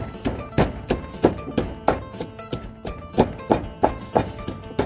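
Rhythmic, steady thuds of a pestle pounding beans in a mortar, about two blows per second, close by and fairly quiet.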